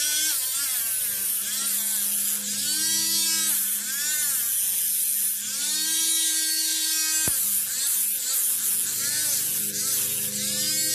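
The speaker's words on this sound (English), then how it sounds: "I'm not real happy with this micromotor right here." A jewelry micromotor drill runs steadily, its high whining buzz rising and falling in pitch as speed changes, with a brief click partway through; loud and close, no talk.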